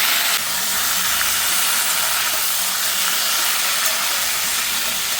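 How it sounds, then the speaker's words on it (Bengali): Marinated meat with ginger, garlic and onion sautéing in a pan for a Bengali thali: loud, close, continuous hissing sizzle that stays even throughout. "সবগুলো মাংস দিয়ে আমি ভালো করে কষিয়ে নেব।"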